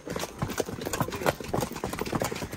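A mare's hooves clip-clopping steadily during a horse ride, a continuous rhythm of fairly loud, close hoof strikes with a low engine hum in the background.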